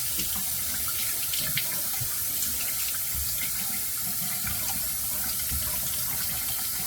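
Tap water runs steadily into a sink while a shaving brush is wetted before lathering with a shave stick, giving a continuous close splashing hiss that is alone, with no voices.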